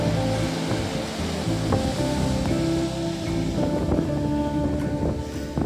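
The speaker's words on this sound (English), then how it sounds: "Ooh, here comes the big waves." Big ocean waves break on Doran Beach at Bodega Bay in a continuous, rushing roar mixed with wind buffeting the microphone, with no one speaking.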